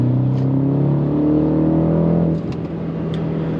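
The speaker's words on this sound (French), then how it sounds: "vous l'entendez avec cet échappement aftermarket, le son qui est extrêmement présent lorsque l'on appuie sur la pédale" A BMW 128ti with 265 hp and an aftermarket exhaust revs hard, its loud, steady engine drone holding strong before easing slightly partway through, with no talking.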